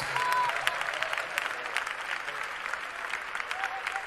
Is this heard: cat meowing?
no